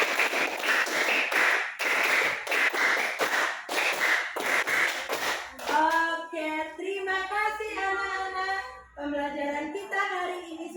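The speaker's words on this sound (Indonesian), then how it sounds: "Tepuk 1, tepuk 2, tepuk 3, tepuk 4, 3 kali tepuk 5" Hand claps in counted groups during a classroom ice-breaking activity, sharp rhythmic bursts repeating for several seconds before voices take over with a sung chant.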